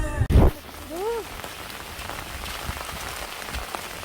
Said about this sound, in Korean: 수덕사에 비 오는 날.